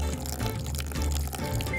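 Water is poured steadily onto a plant growing in a pot indoors, a continuous splashing pour with some dripping, heard alone at a moderate level.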